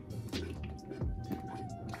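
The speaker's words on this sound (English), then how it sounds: "I'm gonna pour some supplegen in there." Supligen is poured into a pot of Jamaican cornmeal porridge, giving a soft, close liquid splashing and gurgling for a couple of seconds.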